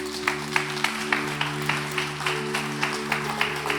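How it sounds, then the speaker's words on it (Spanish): A small church congregation claps steadily, with rhythmic, evenly spaced claps standing out over a sustained low drone of music. "Denle un aplauso al Señor"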